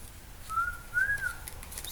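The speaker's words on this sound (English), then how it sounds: "Sorry, I started whistling." A person whistles a short, clear two-part tune, a brief rising note then a longer one, heard close against quiet room noise.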